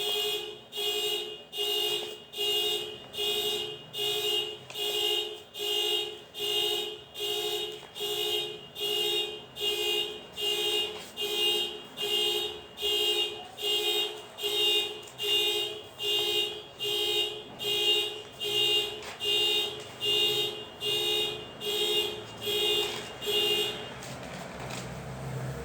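An alarm rings indoors in a steady repeating pattern of loud electronic beeping pulses, roughly one per second, with a bright layered tone that keeps going for the whole stretch.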